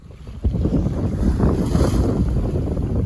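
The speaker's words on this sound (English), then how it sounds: "Got a nice breeze though, and it's not too cold." Steady, loud wind rushes across the microphone aboard a sailboat heading out of Harrington Harbor South on an offshore passage, with a low broadband roar that holds from just after the start to the end.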